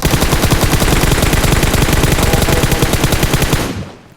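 Automatic gunfire in the video game PUBG: a loud, unbroken burst of rapid shots that runs for nearly four seconds, then cuts off and fades.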